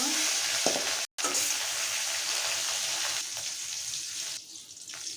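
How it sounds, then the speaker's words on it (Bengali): Remaining pieces of mrigal fish fry in a wok of oil with an even, close crackling hiss that eases slightly toward the end, broken once by a short gap. "আমি বাকি মাছগুলো ভেজে নেব।"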